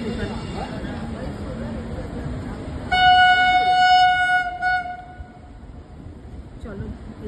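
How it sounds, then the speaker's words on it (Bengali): A Shatabdi express train arriving at a station sounds a loud sustained horn over the rumble of rail traffic, with people talking nearby before and after. "এই যে আসছে শতাব্দী ট্রেনটা দেখা আমাদের দেখা ট্রেনটা ঢুকছে"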